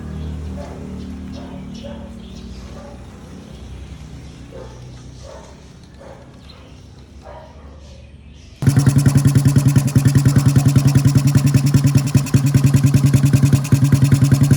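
A vintage 50cc motorcycle, kept in storage for ten years, starts abruptly after a stretch of quieter background sound and dog barks, then runs loud and steady with a fast, buzzing idle close to the microphone.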